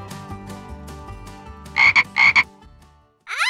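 A frog croaking in loud, close, repeated bursts over a background of music and animated sound effects, ending in a sharp rising sound effect.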